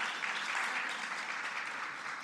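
Audience applause at a talk for a Cairo art team, a soft, even wash of many people clapping, heard from some distance for a couple of seconds.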